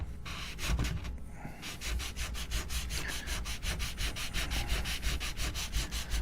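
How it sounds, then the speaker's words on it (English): Steady back-and-forth sanding on a Glarry Telecaster guitar body, a continuous close-up stream of rhythmic abrasive strokes with a rapid regular pulse, alone with no voices. "there's going to be a lot of sanding going on in this video"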